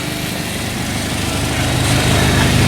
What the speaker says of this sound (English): the pump's still pumping, car's still running